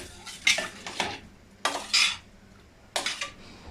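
A spoon stirs a sweetened milk and flour mixture in a pot, making short scraping, clinking bursts in a few uneven strokes, close and moderately loud with quiet gaps between.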